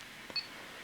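A single short, thin electronic beep from a Xiaomi 70mai dashcam sounds once, faint and clean over quiet background hiss.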